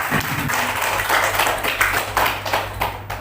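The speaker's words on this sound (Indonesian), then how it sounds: "tepuk tangan untuk kita semua" Scattered hand clapping from a small group at a school teachers' gathering, a few uneven claps forming a brief, moderately loud round of applause with some tapping accents.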